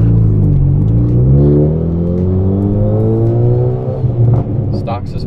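A stock-suspension Hyundai Elantra Sport making 411 wheel horsepower revs hard while driving, its engine note rising and falling in loud, close harmonic sweeps with a rumbling undertone.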